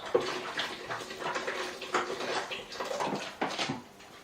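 Coconut water splashes and gurgles into a blender jar in uneven bursts, close and fairly quiet, with no voices.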